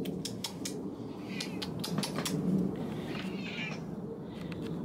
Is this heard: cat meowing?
yes